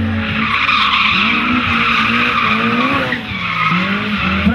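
Race car skidding through a turn during qualifying at a 2010 CDC event in Osijek, a loud continuous engine roar with squealing tires sustained throughout, close to the listener.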